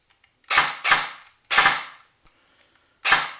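A DYTAC SLR-B15 airsoft rifle fitted with a Gate Aster mosfet fires four short full-auto bursts, each a loud, close, rapid rattle with brief quiet gaps between them. No one speaks.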